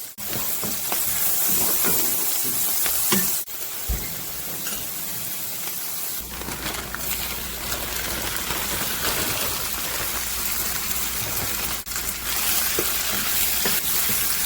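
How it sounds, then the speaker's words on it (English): Onions for Spanish garlic shrimp and scallops sauté in a pan with salt, giving a steady, loud, close sizzle and crackle that stays constant throughout with brief stirring disturbances and no talk. "So we just want to saute the onions. We want to get it slightly caramelized."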